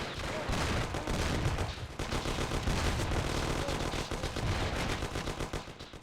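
Sustained close gunfire, including rapid automatic bursts, rattles continuously in a shootout in the 2002 PC game Mafia: The City of Lost Heaven, loud and dense with no pauses.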